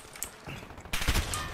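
Video game gunfire in Call of Duty Modern Warfare, a muffled distant burst of shots that swells into a louder, denser volley in the last half second.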